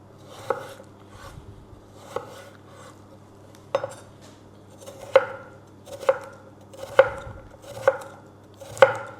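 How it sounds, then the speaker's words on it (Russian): A knife chops raw potatoes into cubes on a cutting board, sharp regular knocks about once a second, close and clear with no voices. "Нарезаем сначала, видите, на такие дольки, а далее на кубики."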